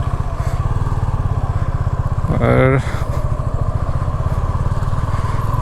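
A motorcycle engine running on a ride from Tezpur toward Arunachal, a close, steady throbbing idle with a brief revving swell midway, while someone talks over it.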